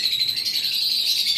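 A pet conure or cockatiel chirps close by in quick, shrill, continuous bursts, alone without voices.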